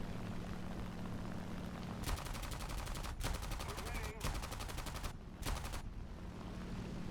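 Aircraft machine guns in a War Thunder dogfight among WWII fighters such as the P-63A, BF-109 and Spitfire, fired in several sustained rattling bursts over a steady engine drone, with brief pauses between bursts.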